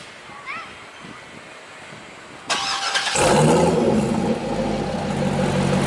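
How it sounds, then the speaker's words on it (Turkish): A Corvette C6 Grand Sport cold-starts with a sudden surge of engine noise that settles into a loud, rough idle close by. Faint talk is heard beforehand. "Ve bir cold start yapabilir misin?"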